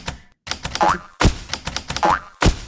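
Game sound effects from a typing.com typing game, a quick run of short tapping and bouncy chime-like blips with brief pauses, fairly loud and close with no talking.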